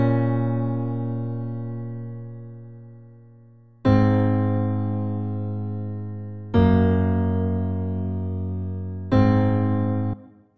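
Ableton Simpler piano built from one single sample plays simple sustained chords: four separate strikes, each ringing out and slowly fading before the next, heard clean and alone.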